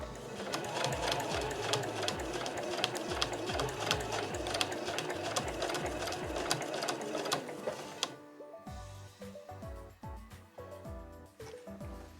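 A home sewing machine stitches through quilted nubi fabric for a tote bag, running in a steady, loud, continuous mechanical whir with rapid needle ticks, then slowing to a few separate stitches near the end.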